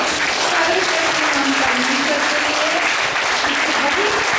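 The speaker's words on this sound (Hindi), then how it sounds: "एक फिर अपने दोनों हाथों को ऊपर उठाकर ऐसे ताली बजाएंगे" A church congregation claps with raised hands during a Hindi-language worship service, loud and continuous, with a voice carrying over the clapping.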